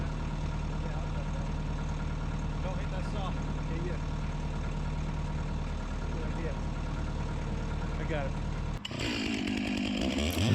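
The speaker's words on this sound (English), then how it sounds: "This chainsaw that I'm using here is probably overkill for what I'm doing." A chainsaw runs steadily at high revs, loud and close, then its tone shifts abruptly near the end as it bites into firewood logs.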